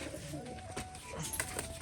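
Pigeons coo softly in a loft where a female pigeon has just settled up high, with background chatter and rustling under the calls.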